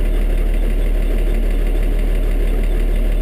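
A Kubota M7 tractor's diesel engine idles steadily after a cold start, a loud, continuous low rumble with a faint knocking pulse and no voices.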